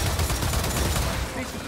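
Turret gunfire in the Gears of War 4 video game, a dense, loud burst of rapid shots lasting under two seconds, close and continuous, with game noise beneath.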